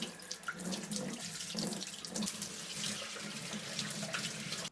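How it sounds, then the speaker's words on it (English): Tap water runs steadily into a sink as the hopper of a Kuvings Auto10 Plus slow juicer is rinsed, a continuous close splashing hiss with no speech. "The hopper just needs to be rinsed. Rinse this hopper too."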